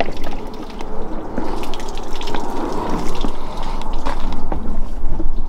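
Water leaking from an Audi car and draining away through a drain, a steady close trickling and dripping with a low rumbling background, no voices.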